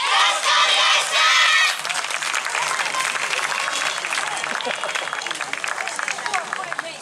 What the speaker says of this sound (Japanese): どうぞ皆様温かいご声援よろしくお願いします。